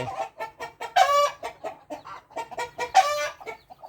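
A flock of farm chickens, including fighting cocks, clucking close by in quick repeated calls, with two louder, harsher squawking bursts about two seconds apart.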